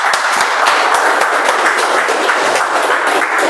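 Audience at a Toastmasters club meeting breaks into steady, dense applause, many hands clapping together at close range for the whole stretch, with no voices over it.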